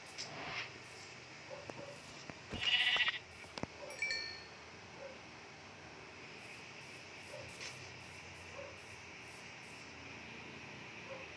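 Sheep in a video game giving a short, faint bleat around the middle, set against a quiet low hiss with a few soft clicks and no talk.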